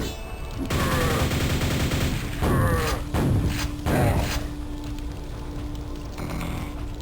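Gunshots fired at loose bricks in the video game DWELL, a few loud blasts in close succession with ringing, metallic tails over a constant droning hum, then the din settles into a steady background.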